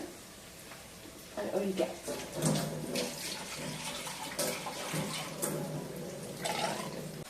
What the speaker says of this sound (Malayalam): അരച്ച് വെച്ചിരിക്കുവാണേ ആവശ്യത്തിനുള്ള വെള്ളവും ചേർത്ത്